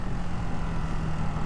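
Steady, loud engine roar of a passing motorcycle heard from a rider aboard a 2024 Ducati Hypermotard 698 Mono RVE, a continuous drone under heavy wind rush with no talk.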